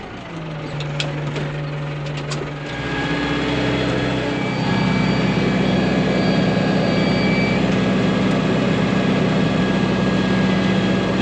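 Tractor engine running while spreading seed over a hay field, a steady droning hum that steps up louder after a few seconds and holds a constant tone with no talk.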